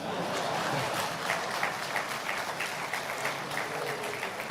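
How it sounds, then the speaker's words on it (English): Audience applause at a formal launch event for a national AI strategy, a steady wash of many hands clapping that holds at an even, moderate level for a few seconds with no voices on top. "Please, can I get another applause?"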